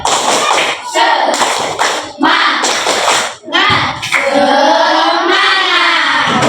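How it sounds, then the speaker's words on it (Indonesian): A school class performs rhythmic spirit clapping (tepuk semangat), bursts of patterned group claps alternating with children's voices chanting loudly in unison, close and energetic. "mari kita tepuk semangat dulu ya"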